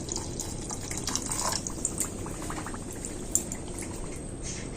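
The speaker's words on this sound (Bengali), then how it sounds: "এবার আমি এর মধ্যে দুধ দিয়ে দিচ্ছি" Milk poured into a semolina mixture for spicy chakli pitha, a steady close liquid pour with soft splashing and trickling that runs unbroken and fairly quiet throughout, with no talking.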